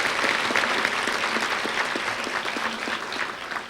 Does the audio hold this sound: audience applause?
yes